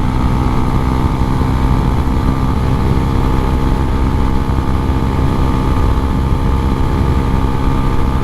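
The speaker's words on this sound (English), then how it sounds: "Just the rush of the wind going past." Wind roars past a rider on a Husqvarna Svartpilen 401 motorcycle, a loud, unbroken broadband rush mixed with low engine drone, steady throughout with no voices.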